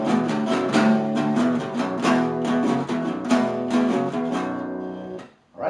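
Electric guitar plays a pre-chorus riff, heavy sustained chords ringing steadily and loudly for several seconds before cutting off near the end, no talking.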